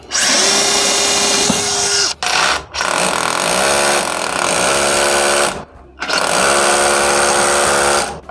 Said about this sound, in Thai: ในการเจาะนี่ก็เข้าง่ายนะครับ